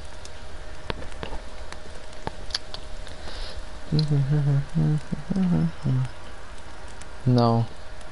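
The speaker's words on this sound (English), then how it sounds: "No, because it's raining. That's why I'm just going to wait till it stops raining." Rain falls steadily in a forest during a survival outing, a continuous soft patter throughout, with people talking over it in the second half.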